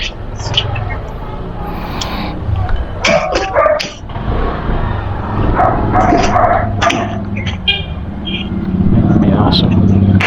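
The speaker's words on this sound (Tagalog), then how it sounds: "May aso." A dog barks several times in short bursts amid nearby talking and street noise with a passing vehicle.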